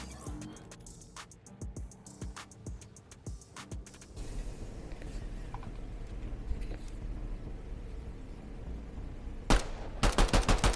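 Rapid cracks of gunfire in Fortnite, sharp repeated shots early, then quieter background rumble before a final close burst of quick shots, with faint talk underneath.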